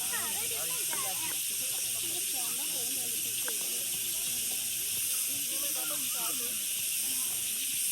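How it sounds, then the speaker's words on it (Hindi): Natural forest sounds along the Pipeline Track near Murree and Nathia Gali, where a dense, constant high hiss of insects fills the air while birds chirp and warble beneath it nearby. "ये थी पाइपलाइन ट्रैक की नेचुरल आवाज़ जो कानों को लगातार चुभ रही थी।"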